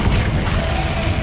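Bombarda and Incendio spells being cast in the video game Hogwarts Legacy make a dense, booming blast that fills the whole short moment, loud and rumbling with no pause.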